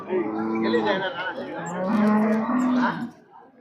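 A large cow at a Holstein Friesian and Jersey cattle market in Punganur moos loudly and close by, one long drawn-out call that rises and falls before fading at the end.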